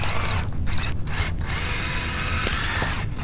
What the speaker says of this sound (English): I don't know if I have enough battery to do it with this drill